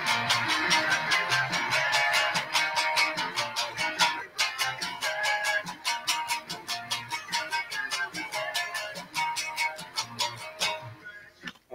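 A guitar part for a song played along with the song's recording, steady rhythmic strums driving through a full, continuous band mix at an even volume.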